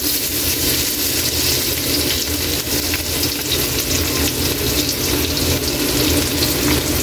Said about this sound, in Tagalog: ilagay na natin yung bawang